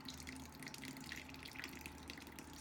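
Rinse water running out of a tilted strainer of freshly washed walnuts, a steady faint trickle and splash like a tap into a sink.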